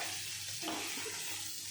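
Onions fry in a pan for a Telugu ivy gourd dish, giving a steady, soft sizzle with a faint stir or scrape partway through and no talking.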